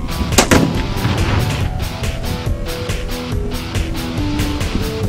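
Gunshots striking steel star targets of one and two-and-a-half pounds, loud blasts with ringing metallic clangs, the first impact sharpest, followed by a dense, sustained rumble of firing and echoing noise.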